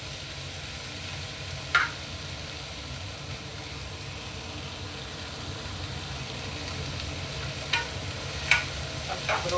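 Onions frying in a pan make a faint, steady sizzle, with a few brief scrapes of stirring scattered through it.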